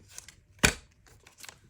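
Scissors cut paper for a junk journal made from an old book: one crisp, sharp snip stands out, surrounded by softer paper rustling and small handling sounds, close and quiet.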